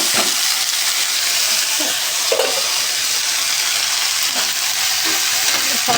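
Water spinach (kalmi shak) fries with potato, tomato and onion in a wok, giving a steady loud sizzle throughout with occasional soft scrapes of stirring.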